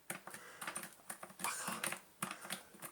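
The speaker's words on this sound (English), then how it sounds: "That switch I think is barely clicking." The sticking high-low switch on a rusty 2005 Numatic NRV-200 wet vac clicks quickly and repeatedly, a run of light, close, irregular taps and snaps heard alone.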